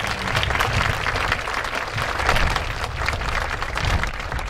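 Applause from a commencement crowd for the graduating class, a steady dense wash of many hands clapping at once, fairly loud and sustained without a break.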